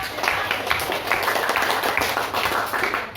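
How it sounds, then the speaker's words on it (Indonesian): Classroom students applauding a group after a physics presentation, a dense burst of many hands clapping steadily and close for a few seconds. "Oke, beri tepuk tangan untuk kelompok."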